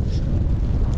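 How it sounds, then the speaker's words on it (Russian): Strong wind of a snowstorm on a mountain plateau in winter, a loud continuous low roar buffeting the microphone with no break. "Слышите, как ветер дует? Метель."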